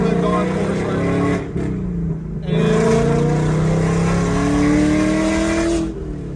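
Ford Mustang Dark Horse (2024) with a Tremec manual gearbox, engine droning and revving loudly from inside the cabin while driving, with a brief dip as the pitch shifts between gears.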